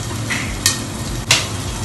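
Capsicum and tomato fry in a pan with a continuous loud sizzle, broken by two sharp scraping stirs from a spoon; no talking.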